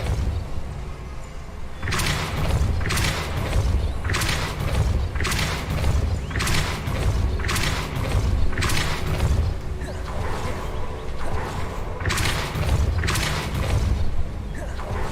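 Repeated Depulso spell casts in a modded Hogwarts Legacy, a series of about seven whooshing, thudding bursts at a fairly regular pace over a deep rumbling game backdrop.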